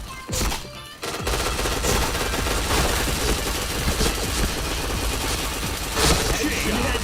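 Dense, rapid gunfire from a video game shooter fills the scene in loud, continuous bursts, with a brief lull near the start, and a voice is heard at moments beneath the shots.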